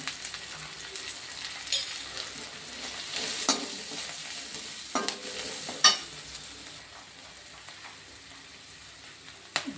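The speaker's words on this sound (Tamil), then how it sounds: "ஒரு பெரிய வெங்காயம் போட்டிருக்கேன். கொஞ்சம் வதங்கட்டும்." Sliced large onion frying in hot oil in a pan, a steady soft sizzle with occasional clinks and scrapes of a spatula stirring.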